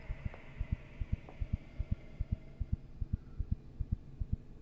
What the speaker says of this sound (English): Your heartbeat is beating so loud